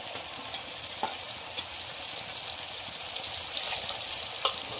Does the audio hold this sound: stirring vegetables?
yes